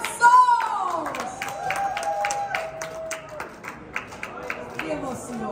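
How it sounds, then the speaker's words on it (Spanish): Passengers clap and call out excitedly at a celebration for the first nonstop flight from Providence's TF Green airport to Santo Domingo, with sparse, uneven claps rising under voices and whoops. "aplausos!"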